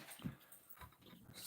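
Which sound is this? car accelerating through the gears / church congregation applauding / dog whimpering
dog whimpering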